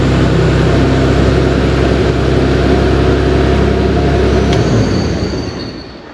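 Air-cooled Porsche engine running loud and close, a steady deep mechanical drone with dense harmonics that fades slightly over the last second, no voices.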